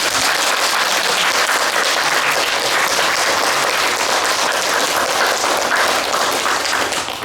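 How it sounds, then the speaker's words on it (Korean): Sustained, dense audience applause fills a Buddhist lecture hall at the opening of a Busan seminar on the nature of mind, steady and loud throughout with no talking over it. "여러분들 큰 박수로 한번 시작할까요?"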